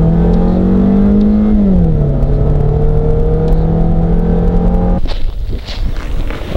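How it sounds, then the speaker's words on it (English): From inside the cabin, a Scion tC engine fitted with an AEM cold air intake revs up and holds steady, a loud continuous drone with rising and falling pitch, ending in rougher noise. "first we're gonna give you some interior noises for the cold air intake"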